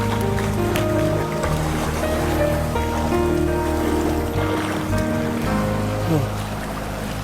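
Waves and surf on a beach, a steady loud wash of water with a continuous droning tone and music-like tones layered over it, no clear talking.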